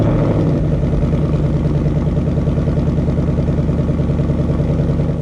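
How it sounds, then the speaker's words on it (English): A 2019 Ford Mustang GT V8 fitted with a Roush X-pipe and stock active exhaust idles in normal mode, with a loud, close, steady rumble and an even throbbing pulse throughout, no voices. "the car starts in normal exhaust mode"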